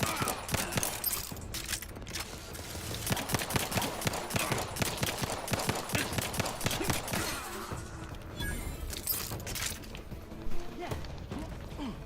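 Turret gunfire in the video game The Outer Worlds 2: rapid, dense bursts of automatic shots and impacts, loud and sustained, with a person talking over the combat.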